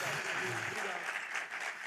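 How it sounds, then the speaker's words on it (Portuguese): A congregation at a church service claps loudly and steadily. The applause is dense and sustained, with a few voices briefly audible at the start. "Vamos aplaudir esse nome de Deus aí."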